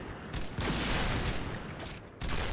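Dense bursts of rapid gunfire from the Point Blank shooter game, including a silenced Cheytac, come in a loud continuous fusillade with brief gaps in between and no talking over it.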